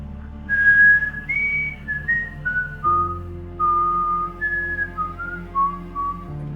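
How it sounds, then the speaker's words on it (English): Eerie whistling drifts through a quiet room, a slow wavering tune of sustained notes sliding down and rising again, clear and unaccompanied over a faint low drone. "At exactly 3:03, we heard the whistling."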